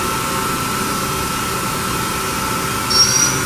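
The spindle of a Mori Seiki NT6600 machine runs at high RPM with a steady, loud mechanical drone. A thin high whine rises briefly near the end, and no one speaks.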